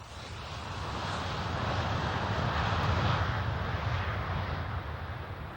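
A propeller airplane in flight, with a loud, steady engine roar and broad rushing noise that swells slightly through the middle and holds constant, heard from inside or close by, no voices.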